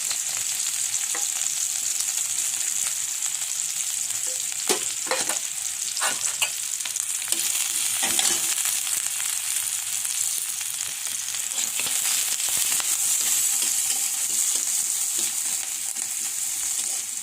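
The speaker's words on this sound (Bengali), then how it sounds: "এবার তেলের মধ্যে দিয়ে দেবো মরিচ আর পেঁয়াজ" Chilli and onion frying in a little oil for noodles: a steady, close sizzle with a broad hiss, broken by scraping stirs and small crackles throughout, and no talking.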